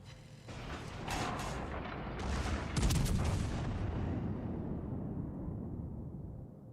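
Naval gunfire and shell impacts from a battleship in World of Warships Legends, with a crack near the start and then a heavier boom about three seconds in, each trailing off into rumbling that fades toward the end.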